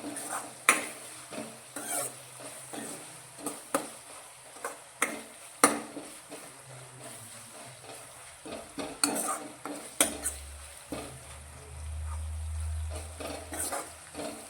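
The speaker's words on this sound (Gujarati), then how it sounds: "લસણ અને મરચાં ડુંગળીને પણ આપણે સારી રીતે સાતરી લઈશું" Garlic, chilies and onion are stirred in a pan with a utensil, giving repeated scraping clinks over a soft sizzle. The stirring is close and uneven, with a low hum rising near the end and no talk.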